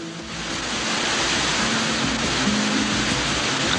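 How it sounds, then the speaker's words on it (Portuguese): Cachoeira do Visconde, a waterfall, sends out a steady, dense roar of falling water that fills the scene evenly from start to finish, close and continuous with no voices. "A Cachoeira do Visconde."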